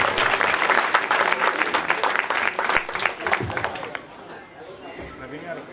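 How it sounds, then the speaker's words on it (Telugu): Audience applause at a movie audio launch function: dense, loud clapping from a crowd that holds steady for about four seconds, then tapers off quickly. "మీ చప్పట్లు ఉండాలి."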